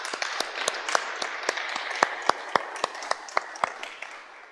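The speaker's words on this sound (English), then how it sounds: "And I would like to give Sturk a round of applause." A small conference audience gives a round of applause, a thin spread of clapping under a few louder individual claps beating out a steady rhythm, gradually tapering off.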